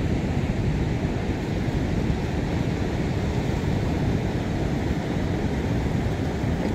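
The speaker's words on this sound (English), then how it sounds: "When the tide comes in, it comes right into the mouth of the river" Tide waves rolling into a river mouth in New Zealand, a dense, steady roar of surf with wind buffeting the microphone, constant and fairly loud throughout.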